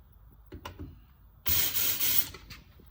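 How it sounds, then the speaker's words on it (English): A couple of soft clicks, then a loud hissing aerosol spray of oil undercoating into a Subaru car door through its drain holes, lasting about a second and a half in pulsing bursts, close by. "We're going to spray both ways."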